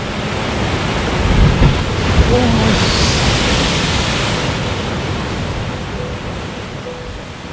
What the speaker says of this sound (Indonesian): Ada tebingnya dan ada ombak-ombak.